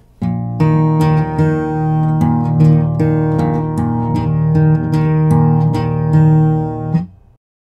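Open strings of a guitar strum a repeating rhythm pattern, steady ringing chords with sharp evenly spaced attacks for about seven seconds, close and loud with no talking, ending as the strings are cut off.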